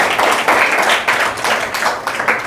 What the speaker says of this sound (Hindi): मैं चाहता हूँ निशांत भारद्वाज के लिए सब लोग एक बार जोरदार तालियों के साथ में इसका मनोबल बढ़ाएंगे